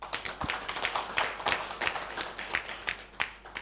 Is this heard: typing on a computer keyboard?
no